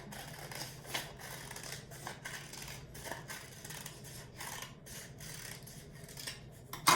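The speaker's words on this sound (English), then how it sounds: "we're going to take our scissors, make sure you're holding them the right way, thumb goes in the little hole, thumbs up, and we're going to cut on that line" Scissors snip through folded paper as a heart shape is cut out, making soft close crunching and rasping cuts in an uneven rhythm, low in level, with no talking.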